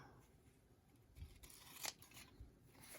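Long scissors snip through journal pages in a quiet room, with a few soft, close cuts, one sharper crisp snip near the middle, and light handling noise between them.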